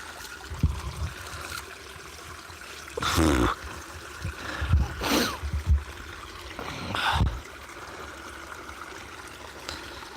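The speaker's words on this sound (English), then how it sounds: "There's a lovely stream coming down there." A stream of water flows steadily in the outdoors on a hillside walk, a soft continuous rush under several louder bursts of wind and handling noise, with no one talking.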